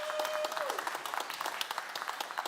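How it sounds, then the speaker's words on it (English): Audience applause at a DevOpsDays Amsterdam 2024 conference talk, dense steady clapping from a crowded room that fills the whole stretch, with a brief tonal whistle near the start. "Please do you give Matteo a generous applause"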